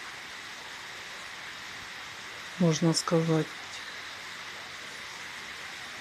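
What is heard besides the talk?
heavy rain downpour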